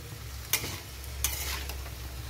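Potatoes and rohu fish roe tossed into a hot pan, a close steady sizzle of frying broken by two sharp scraping stirs, with no talking.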